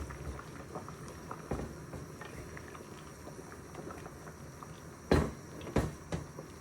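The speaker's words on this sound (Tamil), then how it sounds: "உப்பு போட்டு மூடியை போட்டு மூடி வைப்பேன்" A lid is set onto a pot of cassava boiling in salted water, giving a sharp clatter followed by a couple of smaller knocks over a steady low bubbling, with no talking.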